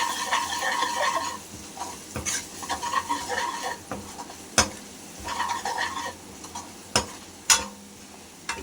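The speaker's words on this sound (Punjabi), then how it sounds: "ਅਸੀਂ ਦੇਗੀ ਮਿਰਚ ਪਾਵਾਂਗੇ ਲਾਲ ਮਿਰਚ ਗਰਮ ਮਸਾਲਾ ਨਾਲ ਭੁੰਨਾਂਗੇ" Spices with deggi mirch, red chilli and garam masala fry in a tadka for dal, giving a soft sizzle under repeated close scraping and clinking stirs of a spoon against the pan.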